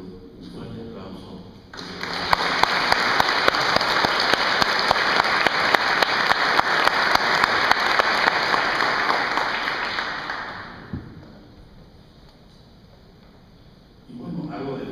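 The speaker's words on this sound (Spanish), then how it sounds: "Y para aquí yo les pido un fuerte aplauso." Audience at a book presentation breaks into a loud, sustained round of applause lasting about nine seconds, dense clapping that fades out, with quiet talk before and after.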